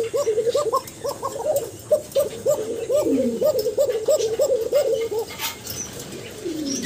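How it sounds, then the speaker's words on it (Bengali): Frightened pigeons coo and call loudly and repeatedly in a dense, rhythmic run of close calls, with faint talk in the background. "কবুতর কিন্তু ভয় পাচ্ছে, প্রচণ্ড ডাকাডাকি করে"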